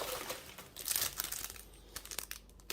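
Paper and plastic packaging crinkle and tear as a parcel holding a perfume bottle is opened by hand, a busy stretch of close, fairly quiet rustling and crumpling with no voices.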